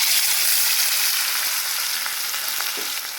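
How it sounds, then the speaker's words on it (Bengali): Fish chops fry in hot oil with a loud, steady, close hiss and crackle that stays even throughout, with no talking. "এদিকে আমার যে তেল গরম হয়ে গেছে, এক এক করে ভেজে নেবো, একটা করে ভাজবো।"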